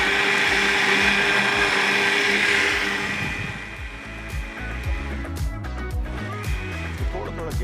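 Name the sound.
home blender grinding ingredients into a fine paste for a drink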